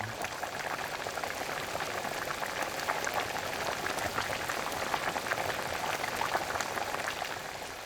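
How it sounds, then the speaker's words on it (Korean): Goat meat and dried mountain greens stew bubbling in a pot, a steady dense simmer of popping bubbles at close range with no voices. "염소고기와 나물들을 넣고 한 번 더 끓이면 묵나물과 진한 국물이 어우러져 기막힌 맛을 내죠."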